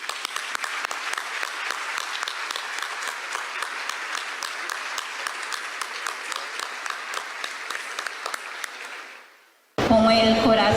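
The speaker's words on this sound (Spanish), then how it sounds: "Recibamos a Graça y a Roberto con un fuerte aplauso." An audience at a gathering gives a warm, steady round of applause for nearly ten seconds, dense clapping that fades out before a voice begins speaking.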